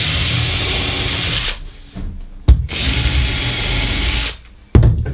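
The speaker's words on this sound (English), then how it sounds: "I'm screwing this little piece down as well" A power drill drives screws into a small wood scrap fixed to a workbench during wardrobe building, two long whirring bursts of driving with short sharp knocks between them, close and loud.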